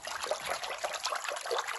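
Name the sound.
water trickling and draining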